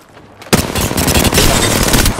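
Loud video game gunfire erupts in a squad battle in Capitol City. After a moment of near quiet, rapid automatic shots blast continuously and stay dense, close and loud to the end.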